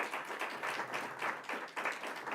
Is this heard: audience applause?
yes